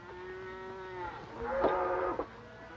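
Cattle low in a long, drawn-out moo followed by a second, shorter bellow nearby on a 1930s Western ranch, loud and alone without talk.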